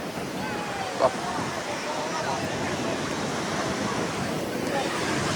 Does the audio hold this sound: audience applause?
no